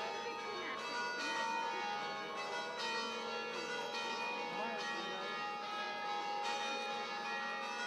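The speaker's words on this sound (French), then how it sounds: "la banlieue d'Erevan se réveilla au son des cloches d'Etchmiadzin" Church bells ring at Etchmiadzin, seat of the Armenian church near Yerevan, overlapping peals struck in a steady rhythm with a full ringing sustain, moderately distant.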